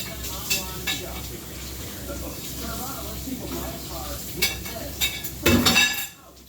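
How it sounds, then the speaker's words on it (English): Potatoes, carrots, celery, jalapenos and red pepper being stirred in a pot with a spoon: soft scraping and clinks under someone talking, ending in a louder burst of stirring clatter. "so stir this around. Got the potatoes, got the carrots, got the celery, some jalapenos, some red pepper"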